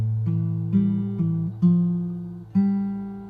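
Bass line alone from the verse of a song, picked fingerstyle on acoustic guitar: low notes plucked one at a time, five sustained attacks ringing close and clear, no talking.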